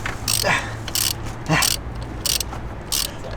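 A hand ratchet loosens spark plugs on a Ford Fiesta Mk7 1.4, clicking in short rhythmic bursts close by, with people talking quietly in the background.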